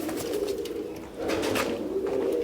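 Pigeons coo in soft, throaty, repeated calls close by, with a brief pause before the cooing resumes.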